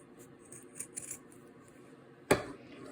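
Scissors snip through quilt fabric close to the stitching on a king size quilt made from reclaimed materials, with a few soft cuts followed by one sharp, louder snip nearby in a quiet room.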